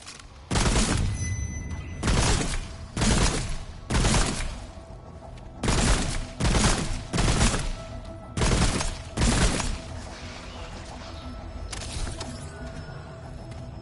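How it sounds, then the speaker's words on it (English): Three-round burst weapon firing in the video game Remnant: From the Ashes, sharp loud volleys in repeated clusters with short gaps, about eight bursts then fading to quieter background. "Love the 3-round burst."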